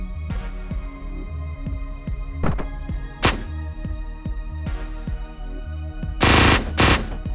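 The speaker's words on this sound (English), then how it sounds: "Whoa, this thing shoots quick." Rapid automatic gunfire from the video game Hotline Miami, a steady stream of quick bursts with heavier blasts near the end, loud and close, no talking.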